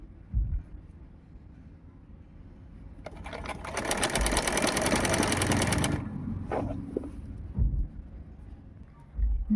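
A sewing machine stitches the fabric of a layer-cut frock, its rapid steady whirring run lasting about three seconds in the middle, near and loud, with quieter handling sounds before and after.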